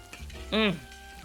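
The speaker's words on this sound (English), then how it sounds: "Now when the rice goes in, I just combine the ingredients that are already in the wok with it, and then I follow up with my stir fry sauce" Shrimp fried rice stir-frying with sauce in a wok, a low continuous sizzle with light stirring, briefly overlaid by a short voiced sound from a person.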